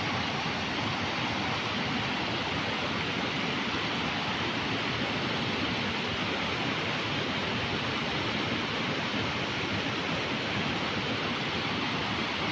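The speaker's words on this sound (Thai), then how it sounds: "น้ำไหลลงมาจากภูเขาเนาะจ้ะ" Cold mountain water in Norway flows downhill in a steady, unbroken rush, loud and close, with no voices.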